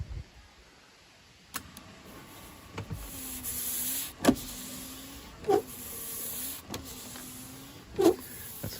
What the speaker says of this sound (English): Let's turn the windshield wiper to just the first click up.